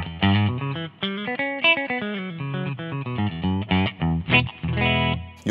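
A distorted electric guitar runs through the Simplifier MK2's black speaker simulation, with loud, punchy chord riffs in uneven rhythmic phrases and brief pauses between strums, heard solo without any talking.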